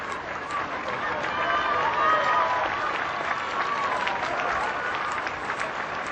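Crowds lining the route of Princess Diana's funeral cortege in 1997 applaud steadily, a dense wash of clapping from many hands spread wide and held at an even level, with a faint murmur beneath.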